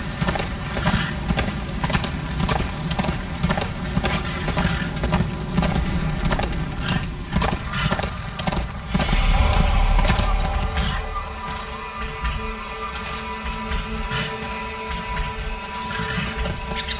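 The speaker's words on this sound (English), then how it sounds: "This is no place for a horse." In the video game Darksiders 2, horse hooves clip-clop steadily beneath continuous game-style background noise and music, with a low rumble swelling briefly midway.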